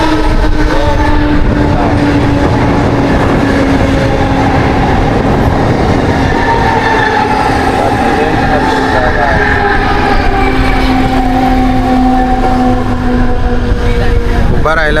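Crowded Mumbai local train running from Sanpada toward CST, loud continuous rumble and rattle of the carriages with a sustained horn tone, passengers' voices audible throughout.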